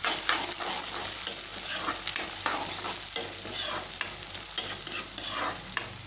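Chili and green garlic leaves fry and sizzle in a hot pan with steady crackle and occasional stirring scrapes, close up and continuous with no voices.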